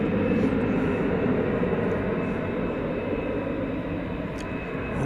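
Jet airliner at Dallas/Fort Worth International Airport, a steady broadband engine roar held loud and close throughout, with no voices over it.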